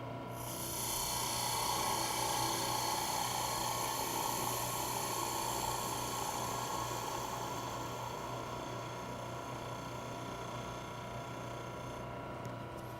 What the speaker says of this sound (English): Now I'll use my skew chisel to square the end.